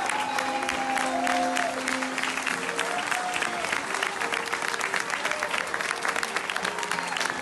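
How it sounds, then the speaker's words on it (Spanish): A crowd claps steadily in sustained applause, dense and even throughout, with a few raised voices and tones faintly mixed in. "Fuerte los aplausos para el maestro Jesús Sevillano"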